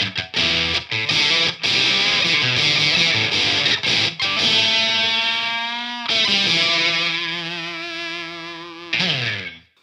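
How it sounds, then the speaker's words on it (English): Beetronics Abelha fuzz pedal in its tropical high-pass mode gives thin, spitty, aggressive electric guitar chords and bending notes with the bass cut, playing loud and alone with short breaks between phrases. "It's the tropical mode, which is a high pass filter."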